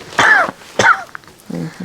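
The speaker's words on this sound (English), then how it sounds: "Cough it all out." A person coughs and clears their throat in two sharp, breathy bursts close to the mic, followed by a short low murmur.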